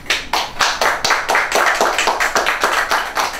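A small group claps together in an even, rhythmic beat at a graduation awards ceremony, close and fairly loud, with no voices over it.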